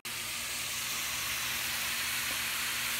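Hamburger meat, onion and green pepper fry in a pan for shepherd's pie, giving a constant, even sizzle and hiss close by with a faint low hum beneath and no talking.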